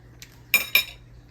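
Fork clinking against a plate while scooping a bite of green bean casserole with sauce and onions, two close metallic clinks after a faint tap.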